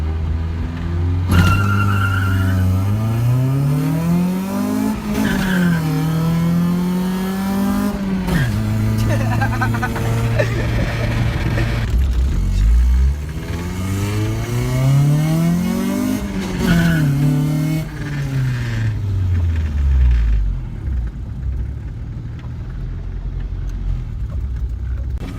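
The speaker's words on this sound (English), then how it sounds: "this diff exploded when I was launching the car with my homie Leonard" A car with a B16 transmission launching hard, engine revving up and down through repeated pulls with tire squeal, loud and close, with voices talking over it.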